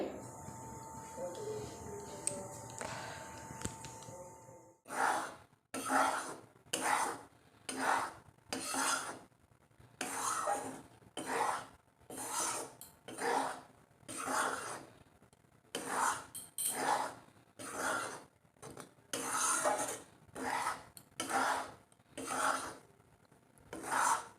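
Grated coconut stirred and roasted in a kadai, heard as a close, rhythmic series of rasping scrapes repeating about every second, after a few seconds of quieter background clatter.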